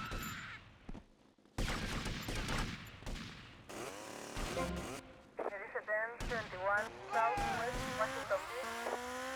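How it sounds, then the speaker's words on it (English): Gunfire in GTA Vice City: bursts of shots and game action sounds mixed with music-like tones and engine noise, with a person talking over much of it. "Shooting!"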